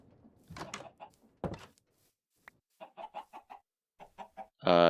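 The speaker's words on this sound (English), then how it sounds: "Hello, chicken." Several short chicken clucks in Minecraft, played in the Stoneblock 3 modpack, come in a quick rhythmic burst of game sound effects, with louder effects before and after.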